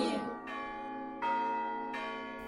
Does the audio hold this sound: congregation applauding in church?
no